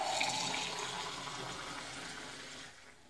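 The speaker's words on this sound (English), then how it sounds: "And then you fill it up with soda water." Soda water fills a cocktail glass over ice, a steady fizzing gush of liquid heard close and alone for about three seconds before it fades out.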